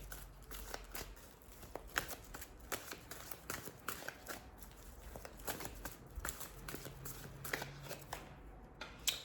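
A deck of oracle cards is shuffled by hand in a steady run of soft riffling flicks and slides, close and fairly quiet, with no voices.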